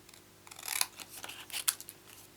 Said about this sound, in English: this isn't really fussy cutting because they're quite straightforward cuts